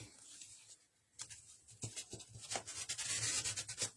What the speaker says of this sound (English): I'm going to fold it and scrape some paint off.